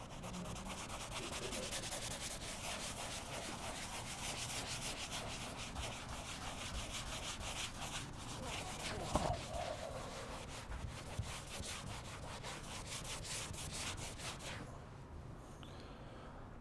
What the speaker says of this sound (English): All right, I'm wiping this off the board.